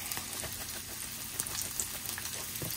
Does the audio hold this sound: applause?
no